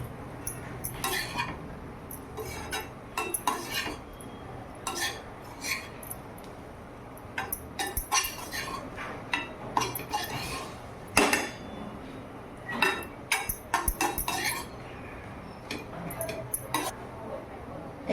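Chapati chivda is stirred and mixed with coriander, producing a long run of irregular close clinks and scrapes of a spoon against a pan, busy and uneven throughout.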